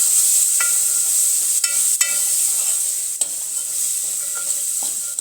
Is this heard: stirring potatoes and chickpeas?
yes